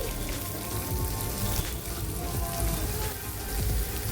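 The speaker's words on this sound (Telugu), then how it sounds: "ఇప్పుడు ఉల్లిపాయను కాస్త ఫ్రై చేసుకోవాలి" Onions frying in a pan for bendakaya ulli karam, a steady close crackling sizzle that holds at even loudness throughout, with no talking.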